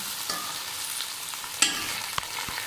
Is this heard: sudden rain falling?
no